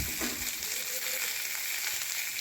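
Bottle gourd peels with dried red chilies and garlic cloves frying in hot oil, a steady close sizzle filling the whole stretch without voices.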